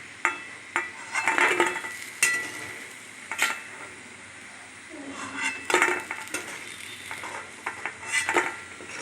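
A utensil scrapes and clinks against a pan while bori lentil dumplings are stirred and fried in oil, with irregular metallic knocks over a soft steady sizzle, close up.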